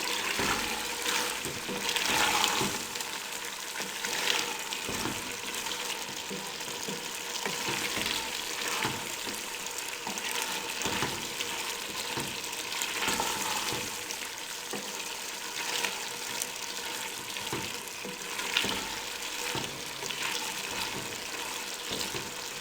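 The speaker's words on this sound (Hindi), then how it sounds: "अब 3 से 4 मिनट के लिए इसको अच्छे तरीके से भून लें।" Mixed vegetables with boneless chicken fry and get stirred in a pan, giving a continuous broad sizzle with frequent soft scrapes and clinks that run on without a break and with no voices.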